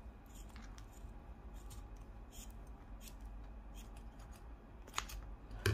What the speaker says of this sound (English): Then we will cut and leave at least 1 centimeter.